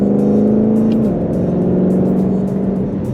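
A Ford Mustang Shelby GT500 with 600-plus horsepower and a dual-clutch transmission pulls hard in sport mode, its engine droning steadily loud and shifting pitch partway through as it accelerates, with no voices over it.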